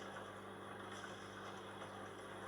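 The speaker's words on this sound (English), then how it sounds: "This is like a sort of a humming vibration." The engine of a British Midland Boeing 737 on flight 92 gives a low, steady humming vibration with a constant drone and faint tonal whine, heard alone.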